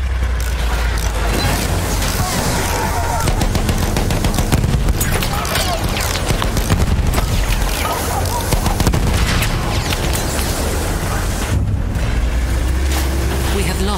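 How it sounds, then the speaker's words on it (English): Machine gun fire in Battlefield 1 conquest gameplay, dense bursts and booming explosions in a loud, continuous battle din, with occasional in-game voice callouts over it. "machine gun over there."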